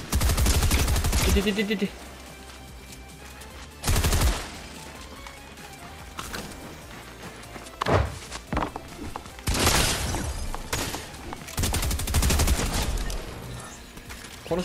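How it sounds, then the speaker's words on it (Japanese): Gunfire in the video game Fortnite: loud bursts of rapid automatic shots and scattered single cracks across roughly fifteen seconds, with someone speaking briefly between volleys. "これが誰か撃ってる"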